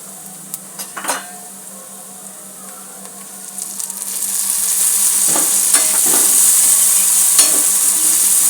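Chopped tomatoes go into a pan of browned onions and garlic paste, bringing a rising, steady sizzle with a few clinks and scrapes of a spoon against the pan in the middle of the sizzling.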